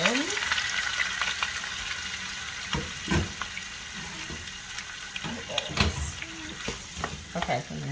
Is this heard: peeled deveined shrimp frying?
yes